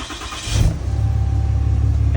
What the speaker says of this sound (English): That Cummins sounding good